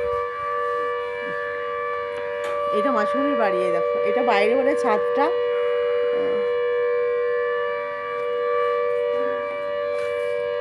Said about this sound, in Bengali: এই দেখো আবার সাইরেন বাজছে